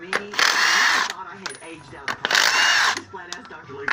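A Kobalt 24-volt brushless power tool, likely an impact wrench, loosens lug nuts to take a tire off a 2007 Mercury Grand Marquis raised on jack stands, firing in two loud close bursts with clanks and handling noise between.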